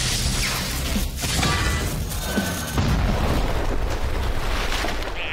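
A weapon blast from an animated underwater battle, with torpedo-like explosions bursting loud and continuous, rumbling booms mixed with whooshing debris and mechanical clatter, a dense roar with no voices.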